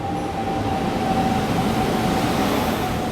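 An express train from Secunderabad to Shalimar pulls in behind a WAP-7 electric locomotive, a steady loud rail rumble with a thin sustained tonal whine running throughout.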